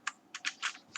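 Code being typed on a computer keyboard: a quick, uneven burst of about five crisp key clicks within one second, close and fairly quiet, with no voice.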